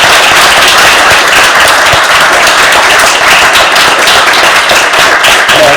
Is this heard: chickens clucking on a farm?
no